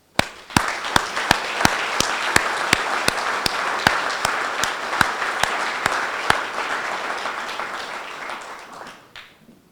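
Applause from an audience at a fire department Chain of Survival ceremony honoring a survivor, a steady broad wash of clapping with a few sharp individual claps standing out, holding for several seconds before tapering off.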